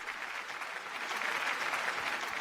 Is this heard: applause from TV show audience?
yes